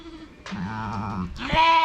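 Lambs bleating inside a barn pen, two or three close, wavering bleats that overlap one another at moderate volume.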